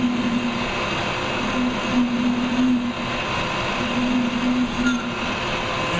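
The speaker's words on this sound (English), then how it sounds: "we're going to turn our spindle on and use our file" A metal lathe's spindle runs with a steady, close mechanical drone and a low hum while a file is held against the spinning workpiece to take off sharp edges. The sound stays even throughout with small rises and dips.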